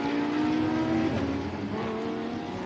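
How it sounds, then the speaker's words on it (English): A Lamborghini Super Trofeo race car accelerates at the Portimao circuit, its engine a loud, close, sustained roar with a rising tonal whine that dips and shifts partway through, no talk over it. "accelerating through on this 14th lap of the race is Dorian Pin"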